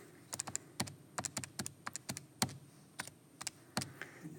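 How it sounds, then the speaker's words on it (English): Numbers tapped quickly into a calculator: a series of crisp, close button clicks in an irregular rhythm, some in quick bursts, over a quiet background with no talking. "So I do all that on my calculator. So I'm going to just type that in real quick."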